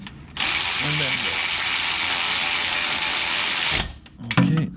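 A ratchet turns during a starter replacement on a Mercedes ML W163 SUV, giving a sustained loud, close clicking buzz of rapid pawl strokes, then a pause and a couple of brief clicks.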